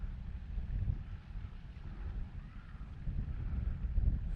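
Steady wind buffets the microphone beside a lake while an RC DragonForce 65 yacht sails in light winds, a continuous low rumbling gust that swells slightly toward the end.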